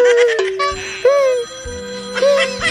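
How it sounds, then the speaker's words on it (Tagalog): A mobile phone rings with an incoming call, its bright electronic ringtone melody repeating in looping phrases, loud and close, with faint voices underneath. "Nanawag na po ang Shopee nga busit."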